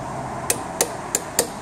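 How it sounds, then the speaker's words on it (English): A metal scraper hammered under the transmission pan of a Subaru TR580 Lineartronic CVT: four sharp, bright metallic taps in quick, slightly uneven succession over a steady background hum. "I've got our little metal scraper there. And I just try and hammer it into a spot"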